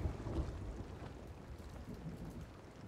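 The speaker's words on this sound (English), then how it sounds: "now there's a storm coming." A stormy game scene at sea, with steady rain hissing and low thunder rumbling, heard faint and continuous with no voices.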